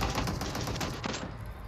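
Rapid gunfire from the battle royale video game PUBG, a dense continuous burst of shots that stays loud and close throughout with no talk over it.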